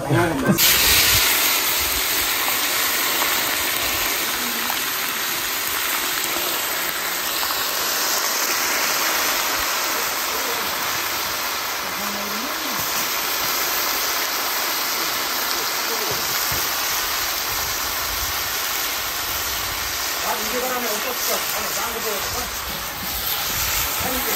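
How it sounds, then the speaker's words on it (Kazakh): Meat frying in a kazan cauldron over a campfire, a loud, steady hiss and sizzle throughout, close up, with people talking faintly in the background. "енді ет салып қуырып жатырмыз"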